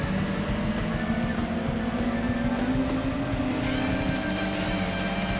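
Racing video game car engines roar continuously as a Fiat overtakes, a loud, steady high-revving whine with shifting pitch and no speech over it.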